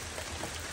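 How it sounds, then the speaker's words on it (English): Rain falling on a night running trail during a 100-mile ultramarathon, a steady, even hiss of light drops close around with no distinct impacts. "Rain just started coming down."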